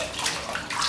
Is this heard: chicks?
no